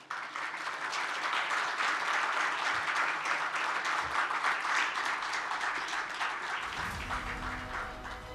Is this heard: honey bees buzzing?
no